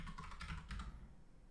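Someone types a search term on a computer keyboard: a quick, close burst of clicky keystrokes for about a second, then it trails off to quiet.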